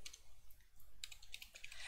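Rapid typing on a new computer keyboard, quick bursts of crisp key clicks in an uneven rhythm, close to the microphone with no talking.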